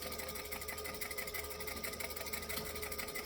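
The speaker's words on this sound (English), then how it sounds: "I'm just going to stitch back and forth" A sewing machine stitches back and forth over a bag seam, a steady continuous whirring hum that runs throughout at close range with no talking.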